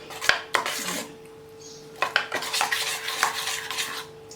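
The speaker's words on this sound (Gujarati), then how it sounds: "હલાવી લઈએ" A spoon stirs moong dal batter in a bowl with a run of sharp clinks and scraping knocks against the sides, close and distinct, pausing once before resuming in quick strokes.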